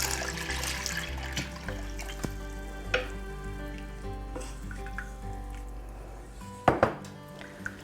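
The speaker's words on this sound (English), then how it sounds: "And I'm adding 4 cups of broth." Broth pours into a pot with a soft sizzle and gurgle, then a brief louder splash near the end over a steady kitchen hum.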